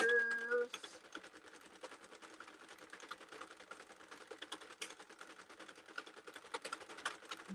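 Hand-cranked circular knitting machine turning out yarn, a faint, rapid clatter of needles and gears ticking in a steady rhythm, with a short voice at the start.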